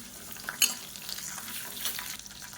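Onion and garlic frying with chana dal in oil for a tomato peanut chutney, a continuous sizzle with light stirring scrapes and a brief clatter early on, no speech.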